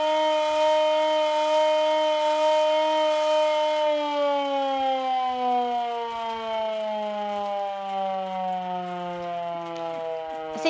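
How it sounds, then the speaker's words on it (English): An air raid siren wails alone for about eleven seconds, a loud sustained tone that holds steady and then slowly winds down in pitch. "managed to find an air raid siren"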